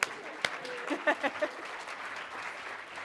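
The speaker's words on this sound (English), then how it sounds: "Applause for all of our wrappers." Conference audience applauding prize winners during a session break, steady moderate clapping with a few sharper claps standing out, heard at a distance in a large room.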